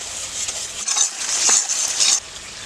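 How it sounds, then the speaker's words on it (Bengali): Spice paste with chopped tomato and four green chillies frying and being stirred in a pan for fish curry, a steady close sizzle with scraping spatula strokes against the metal. "মশলাগুলো ভালো করে কষাতে হবে।"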